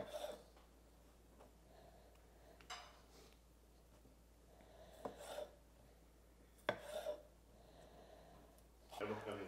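A kitchen knife destemming and halving tomatoes on a board, a handful of separate sharp cuts spaced a couple of seconds apart, close and fairly quiet in an otherwise hushed room.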